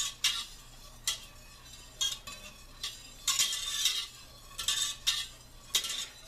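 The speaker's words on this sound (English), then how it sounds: "as you can see, I'm stirring very gently" Spoon gently stirring Bravo probiotic yogurt in a container, a series of light clinks and scrapes recurring about every second over a faint steady hum, close with no talk.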